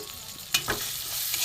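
Ghugni spice paste with chilli powder and a little sugar fries in a pan on a vegetarian day, a dense close sizzle broken by one sharp stirring scrape, no voices.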